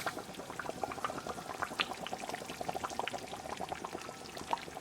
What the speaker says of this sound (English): now bring your gas to low, which is simmer, and let it simmer for 10 minutes